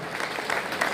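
Brief burst of audience applause at a community fundraising event, many hands clapping together in a dense, steady patter with a faint crowd murmur.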